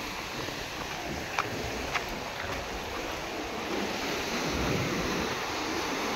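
Surf washes steadily onto Anjuna Beach in Goa, a continuous close roar of breaking sea waves with wind buffeting the microphone and a couple of faint clicks.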